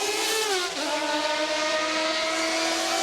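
A Formula One race car rejoins from a pit stop at Spa in 1992 after a change to wet tyres, its high engine note rising in pitch as it accelerates away, sustained and moderately loud with no talking.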